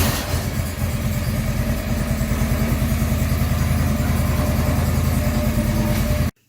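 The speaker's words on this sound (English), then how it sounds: "now we can start the engine and we'll raise the mower deck." A John Deere 445 lawn tractor engine runs steadily and loud with a rapid low pulsing throb, alone and unbroken, then cuts off abruptly at the end.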